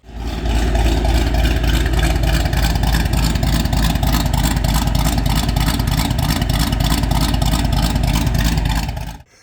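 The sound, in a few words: car engine revving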